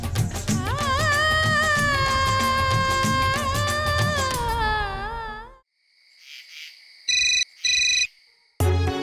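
A phone rings in a dramatic scene, with two short bursts of electronic ringtone trilling after a sustained musical swell fades out, near and fairly loud.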